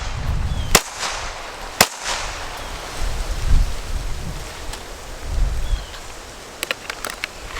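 Outdoors, an XDM Elite OSP pistol fitted with a 35-round magazine fires two sharp, loud reports about a second apart, then a quick cluster of several more shots near the end.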